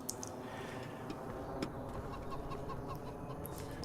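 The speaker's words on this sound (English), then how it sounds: "You have got chickens" Chickens clucking in Farming Simulator 25 on the Risoux Forest map, a steady cluster of soft clucks and murmurs from a nearby flock, with no talking over them.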